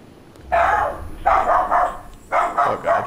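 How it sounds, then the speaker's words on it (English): A pug barks in three bursts of quick, yappy barks, close and loud, with a brief pause between each volley and no talking over it. "No, it's just my dog."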